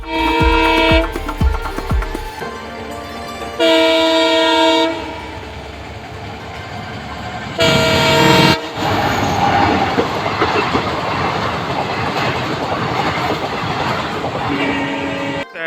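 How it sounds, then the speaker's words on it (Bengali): A passenger train rumbles past close by near Siliguri Junction, with loud, repeated horn blasts and rhythmic clattering of wheels over the rails. "তো ট্রেন আসছে দেখা যাক"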